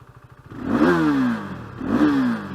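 Motorcycle engine cranked over with a quick chugging starter rhythm, then the throttle blipped twice, each rev rising and falling in a loud, close snarl.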